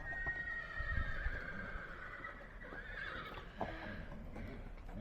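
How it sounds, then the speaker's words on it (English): A horse neighs with a drawn-out whinny up close, followed by hooves clopping faintly in the background. "That horse is gorgeous."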